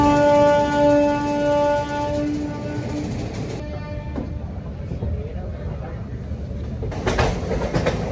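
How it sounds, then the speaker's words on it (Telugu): Kakinada–Vijayawada MEMU Express 17258 train on the move, a long sustained horn blast for the first few seconds giving way to steady rolling rumble and rattle, with a brief brighter burst near the end. "జస్ట్ ఇప్పుడే ఎక్కాను ట్రైన్."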